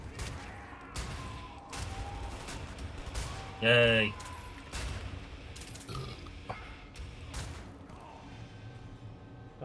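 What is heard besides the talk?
gunfire from the video game Wolfenstein: The New Order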